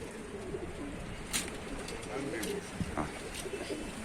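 Pigeons coo softly in a loft among a flock of racing pigeons, low murmuring calls over a faint background with a few brief wing flutters and scuffles.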